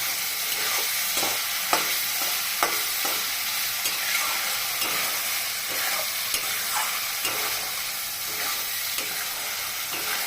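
Spice paste being stirred and fried in oil in a pan for a Bengali dhokar dalna with red lentils, a steady close sizzle with regular scraping stirs every second or so.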